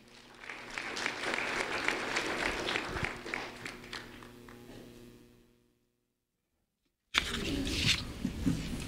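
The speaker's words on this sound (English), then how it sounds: "Yaritza de Dios Marquez, a round of applause for Yaritza, please." Audience applause rises and holds for about five seconds before fading to silence, then a second burst of clapping and cheering starts abruptly near the end.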